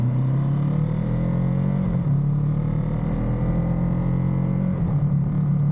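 A Ducati Monster 937 motorcycle pulling hard in sport mode, its engine a loud, steady, close drone that rises in pitch briefly before settling, heard alone with no talk.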